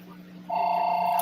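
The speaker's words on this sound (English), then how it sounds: "that's my phone." A telephone sounds a steady electronic ringing tone that starts abruptly and continues alone at moderate loudness.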